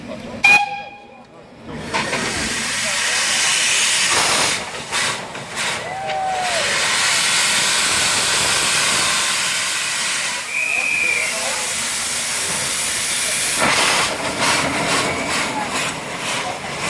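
A steam locomotive of nearly 1,300 horsepower, built for light passenger trains, hisses steam steadily and loudly at close range, with brief whistle-like tones and some voices in the background.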